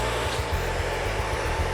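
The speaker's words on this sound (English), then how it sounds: "Now this dryer utilizes far infrared heat." A far infrared hair dryer blows steadily and close during a salon blow-out, a continuous airy roar with a low motor hum, with no talking.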